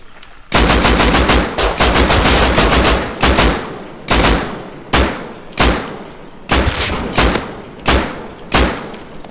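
Gunfire in the video game Rust: loud, close bursts of rapid automatic shots, repeated in clusters with brief gaps between volleys, and no talking.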